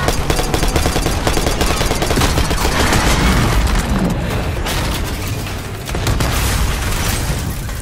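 Heavy automatic gunfire and booming blasts in the video game Call of Duty: Black Ops 6, a loud, dense barrage of rapid shots that keeps going almost without pause.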